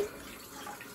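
Water runs from a sink tap and drains away in a steady, close, continuous hiss with no voices.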